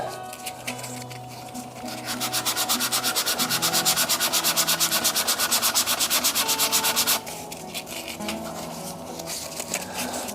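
Rhythmic scratchy sanding against a stabilised amboyna burl shaving brush handle turning on a lathe, pulsing rapidly for several seconds in the middle, softer rubbing before and after.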